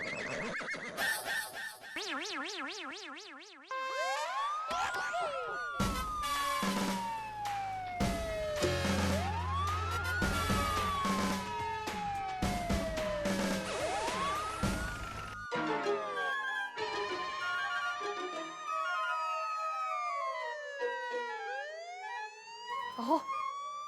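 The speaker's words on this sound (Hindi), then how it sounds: "देखो पुलिस के सायरन की आवाज आ रही है।" A police car siren wails in repeated rising and falling sweeps for over twenty seconds, fairly loud and layered with other warbling electronic tones, with no talking.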